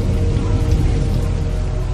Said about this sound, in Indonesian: dan hujan turun dengan deras.